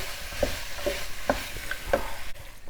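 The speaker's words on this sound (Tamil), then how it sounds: "போட்டு பச்சை வாசனை போகிற அளவுக்கு சிம்மில் வச்சு வதக்கிடணும்" Carrot and beetroot kurma vegetables sauté on a low flame, a soft continuous sizzle punctuated by several distinct spoon-stirring clinks and scrapes in the pan.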